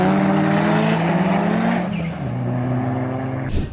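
A tuned Polo GTI with over 600 horsepower accelerates hard at a run event, its loud engine roaring and climbing through the revs, dropping briefly at a gear change before pulling again, close and dominant with no talk.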